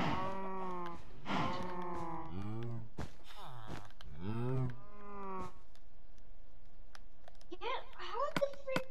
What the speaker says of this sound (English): How the freak does a cow get up here?